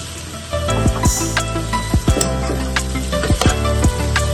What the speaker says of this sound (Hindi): भिंडी को फ्राई कर लेंगे।